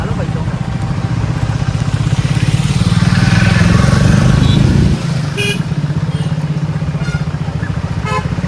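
A motorcycle rumbling past on a foggy hill road near Kurseong, a loud steady engine drone that swells and then drops off, with faint horn toots and voices in the background.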